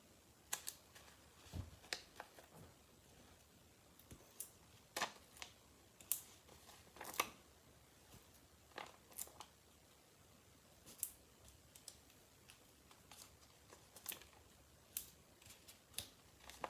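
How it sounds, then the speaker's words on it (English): Scissors snip card-making foam dimensionals at a craft table, small crisp cutting clicks scattered irregularly over about seventeen seconds, quiet and close with no talking. "I'm just going to trim some of these dimensionals."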